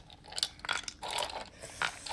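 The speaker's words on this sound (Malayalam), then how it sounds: "നമുക്ക് ഇതിനകത്തോട്ട് ഐസ് ക്യൂബ് ഇടാം" Chopped ice cubes drop into a watermelon shake as a run of sharp clinks and knocks with short scraping rattles, close and fairly faint, with no voices.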